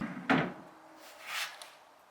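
An inset MDF drawer in a built-in nightstand slides shut with one sharp knock near the start, followed by a softer sliding rustle about a second later, close and moderately quiet.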